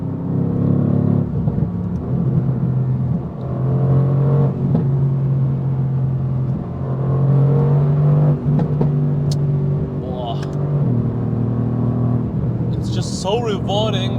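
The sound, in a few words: Mercedes-AMG GTR accelerating at full throttle on Autobahn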